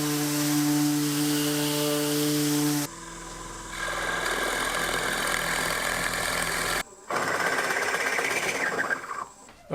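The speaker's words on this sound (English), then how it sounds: "I did quite a bit of drilling on these" A power drill bores holes in wooden pieces for a low floor-sitting coffee table, a loud continuous motor whine that shifts pitch as the bit bites, with a brief break before the drilling resumes.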